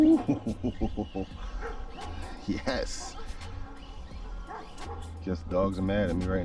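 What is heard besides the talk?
dogs barking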